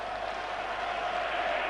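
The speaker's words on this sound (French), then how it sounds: "sort sous les applaudissements de son public" A stadium crowd at the 1990–91 UEFA Cup final between Inter Milan and AS Roma gives steady, dense applause to a substituted player, a continuous roar of clapping without pauses.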